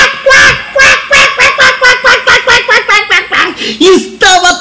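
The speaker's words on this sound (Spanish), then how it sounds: "el pato que ve al lobo que está ahí y comienza a graznar" Duck quacking in a rapid, steady series of loud, nasal honking calls close by, about a dozen in quick succession, with a few higher squawks toward the end and no speech.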